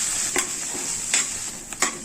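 Onions, green chillies and curry leaves fry in a pan, a steady sizzle punctuated by four or five crisp spatula scrapes as they are stirred close by.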